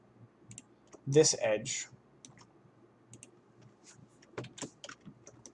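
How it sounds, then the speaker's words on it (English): A computer mouse clicks during modeling work, with a quick cluster of close clicks early on and a few faint scattered clicks afterward, in an otherwise quiet room. "I'm going to click on this edge"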